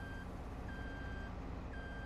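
Reversing beeps from a truck in Farming Simulator 22 repeat at a steady rhythm of long tones over a constant engine drone, fairly faint and with no talking.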